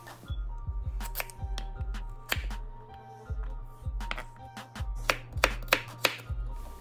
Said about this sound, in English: we'll cut them into matchsticks with my chef's knife